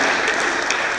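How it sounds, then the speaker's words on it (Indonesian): Audience applause during a parliament class session, a short, steady burst of many hands clapping at moderate volume in a room, with no speech over it. "Tepuk tangan untuk hal itu."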